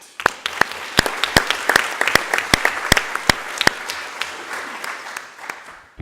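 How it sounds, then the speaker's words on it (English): Scattered applause from a small group at a college district board of trustees meeting honouring a retiree: distinct, sharp claps that thin out and fade to a few stragglers. "please join me in a round of applause"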